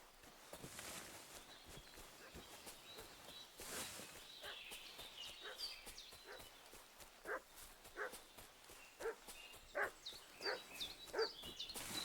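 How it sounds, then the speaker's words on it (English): Barking and fussing dog in the medieval village world of Kingdom Come: Deliverance II, heard as a string of short, increasingly frequent yelps growing louder toward the end, over soft outdoor ambience and occasional footstep-like thuds. "What's that dog making such a fuss about?"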